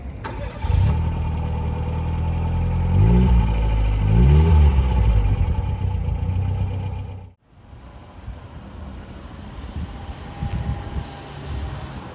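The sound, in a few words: Fiat Cinquecento 899cc four-cylinder engine running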